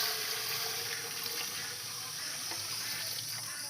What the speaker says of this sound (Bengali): এবার ঢালা হচ্ছে দুধটা